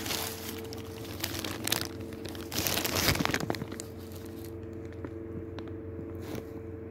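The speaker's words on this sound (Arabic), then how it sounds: "وفي حال وجودها لابد من فتح الكيس البلاستيكي" A plastic bag crinkles and rustles as it is opened over potted cactus seedlings, with a louder burst of crackling midway before settling into quieter handling noise.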